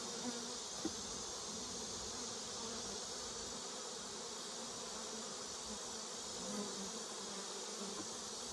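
Honey bees buzz steadily at an open hive in early summer, a dense, continuous hum close by that holds at an even level throughout with no talking.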